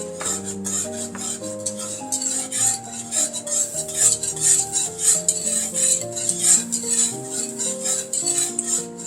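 A spoon scrapes steadily around a pot of grits, producing a continuous rhythmic stirring and rasping sound under gentle music, with no talking.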